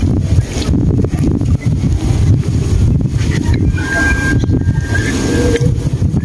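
Strong wind rushes over open water during an airgun fishing trip, a steady loud roar buffeting the microphone throughout, with a faint thin whine partway through.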